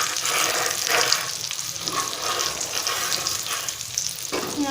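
Food fries in a pan as part of a homemade kids' lunch, giving a loud, close, continuous sizzle. Bursts of crackle rise and fall across it, with no voices.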